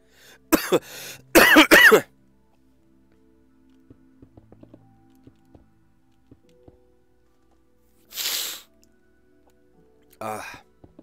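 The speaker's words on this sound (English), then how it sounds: "I'm sorry if I'm coughing." Two sharp coughs near the start, then quiet with faint ticking, followed later by two more short coughs or throat clears, close to the microphone.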